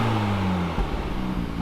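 Honda Civic Type R with triple exhaust pipes revving loudly up close, a steady droning engine note that breaks off abruptly midway into rough, uneven popping and crackling.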